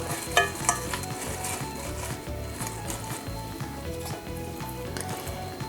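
Fresh mint going into a saucepan for Ghanaian sobolo hibiscus drink, heard as a continuous sizzle and bubbling with soft stirring scrapes and a couple of brief clinks near the start, no talking.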